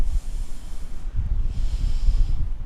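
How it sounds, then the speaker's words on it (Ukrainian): A sharp, breathy exhale during a family morning exercise session, a close and fairly loud airy rush, then a second breath shortly after. "Видих."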